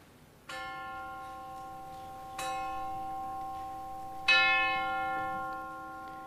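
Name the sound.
church clock bell striking three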